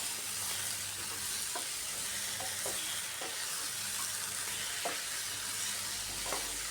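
Vegetables for a flat bean and potato curry stir-fry with small lentil dumplings (bori) in a pan: a soft, steady sizzle with occasional scraping stir clicks, nearby but quiet.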